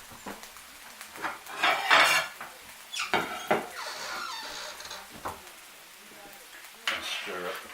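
Plates and dishes clatter and clink in a home kitchen while pasta shells cook, several sharp knocks of crockery spread over the moment with a little sizzling behind.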